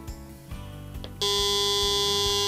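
Flashlight in SOS mode pulsing, picked up as an electronic buzz that suddenly jumps into a loud, steady, high tonal whine after a quieter humming stretch, close and continuous, no talking.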